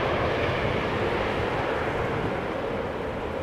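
A passenger airliner approaches to land on the center runway at Amsterdam Schiphol Airport, a steady, loud broadband jet roar that holds constant throughout without any talk.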